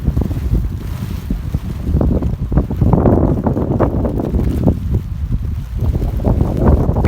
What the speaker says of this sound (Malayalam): നല്ല അടിപൊളി കാറ്റ്